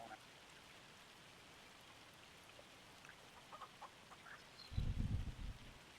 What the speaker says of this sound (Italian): Mancava solo che la grandine adesso.